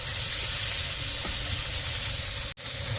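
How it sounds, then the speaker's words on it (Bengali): Steady loud sizzling of capsicum, potato and beans frying in oil in a pan, a continuous hissing sizzle close up with a brief dropout near the end. "বিনস কেটে রেখেছি, এটাতে দিয়ে সবজিটাকে ভাজিয়ে নেব। ভালো করে ভেজে নেব।"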